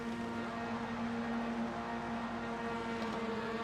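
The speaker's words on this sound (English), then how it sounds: "The drivers revving up." Racing car engines revving together on the grid at Mugello before a race start, a loud sustained droning roar with steady pitched tones, no talk.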